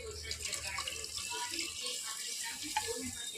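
Tap water runs into a mixer jar as it is rinsed, a steady close splashing and gurgling wash with a faint voice in the background.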